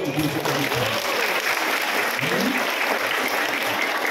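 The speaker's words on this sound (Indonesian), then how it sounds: "Tepuk tangan." Applause from an audience at a comedy show in a Balinese village, dense steady clapping throughout with some mixed crowd noise and voices underneath.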